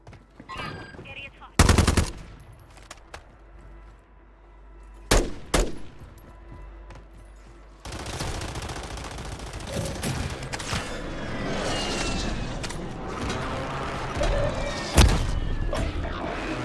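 Gunfire in the video game Warzone: loud single shots and bursts, then a dense, sustained stretch of rapid automatic fire and booms in a chaotic firefight, with heavy crackle throughout.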